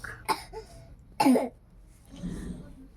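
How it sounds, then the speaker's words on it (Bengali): Two short, harsh coughs close to the mic, a second apart, followed by quieter background murmur. "শুনতে পাচ্ছ গাইস কেমন কাশি হয়েছে?"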